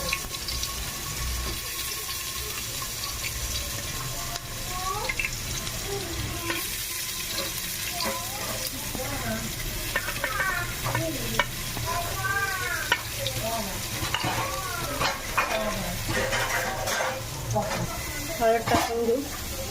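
Onion fries in hot tempering oil with cumin, mustard seeds, curry leaves and asafoetida, a loud continuous sizzle with repeated scraping stirs of a spoon, while a voice talks at times over it.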